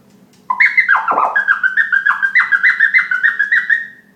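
Rapid choppy scratch sounds follow one another in quick rhythmic bursts, the record's pitch swooping while the crossfader chops it into short pieces.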